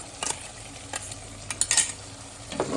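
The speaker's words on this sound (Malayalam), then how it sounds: "നമുക്കൊന്ന് ഇളക്കി കൊടുക്കാം" Palak paneer butter masala curry is stirred in a pan, with soft sizzling and a few light scrapes and clinks of a spoon against the pan, close and fairly quiet with no talking.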